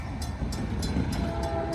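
A CSX train rumbles close by with rhythmic clacking of wheels on rails, a faint horn tone emerging toward the end.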